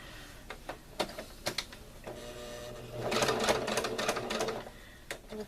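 A sewing machine stitches fabric in a burst of rapid mechanical whirring and clatter, loud and close, with scattered clicks and knocks from handling before and after.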